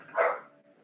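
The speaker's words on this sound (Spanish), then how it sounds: "el perro está ladrando" A single soft, muffled bark from a dog somewhere nearby, brief and moderately faint, trailing off into quiet room tone.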